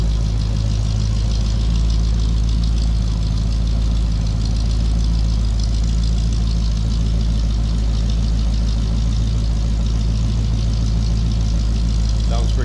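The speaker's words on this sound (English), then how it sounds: "Sounds pretty good. Nice deep throaty exhaust note." A 1953 Ford F100 pickup street rod idles with a steady, deep, throaty exhaust rumble, loud and close, running continuously throughout.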